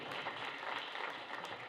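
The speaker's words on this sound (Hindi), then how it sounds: "आयोजकों के लिए तालियां बजा दीजिए" Audience applause for the organizers of a public speaking event, a dense, steady wash of many hands clapping at moderate distance with no voice over it.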